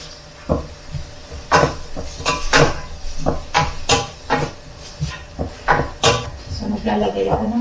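Miso stirred and sautéed in a pan for sinigang na bangus, with repeated scraping and knocking of a utensil against the pan over a low background, each stroke distinct and close.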